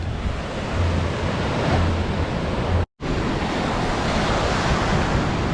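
Sea waves and strong wind on a beach road near La Guardia on a Venezuelan island, a loud continuous roar of surf with heavy wind buffeting the microphone and a brief dropout partway through.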